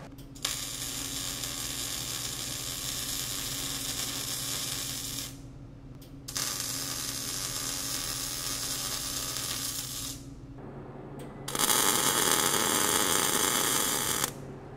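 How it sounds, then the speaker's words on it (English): Continuous arc welding along the slots of a steel welding table, a steady crackling sizzle in three long runs separated by short pauses, the last run brighter and louder, with no talk. "We just want to put a little more weld in every slot"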